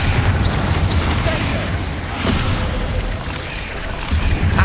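A Confringo fire-blast spell explodes in Hogwarts Legacy during a catacomb fight at Feldcroft, a loud, dense rumbling boom that swells twice amid steady game noise, with no voices.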